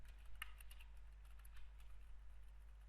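Faint, quick clicks of fingers typing on a computer keyboard come in short, irregular bursts over a low steady hum.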